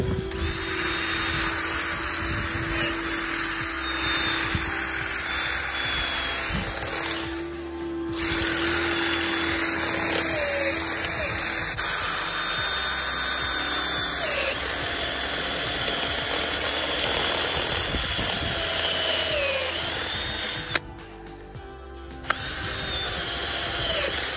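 An electric drill whines steadily and loudly up close, with brief pauses and shifts in pitch as it bites into a metal RV awning bracket.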